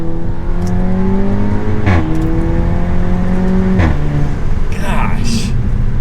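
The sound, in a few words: Audi S3 engine revving in dynamic mode, sunroof cracked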